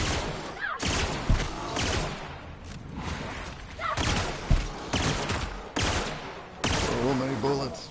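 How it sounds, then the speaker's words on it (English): Rapid gunfire bursts in The Outer Worlds video game, loud repeated volleys of shots with short pauses between them and thuds mixed in. "So many bullets."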